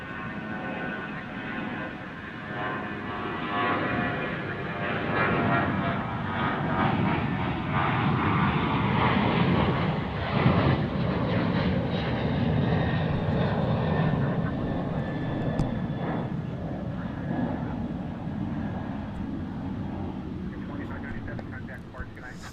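An American Airlines Boeing 737-800 jet roars at DFW airport, its broad engine rumble swelling and holding loud before slowly easing off, with people talking nearby throughout.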